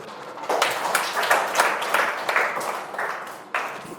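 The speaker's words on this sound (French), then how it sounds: "Applaudissez pour vous." Students applaud in a French-language lesson, a dense, bright burst of clapping that swells quickly and holds steady for a few seconds with no talk.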